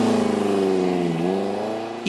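A VW Beetle rally car, a 1960s–70s style rallye-tuned Bug, revs hard with a steady loud engine drone whose pitch dips slightly and climbs again, heard up close without talk.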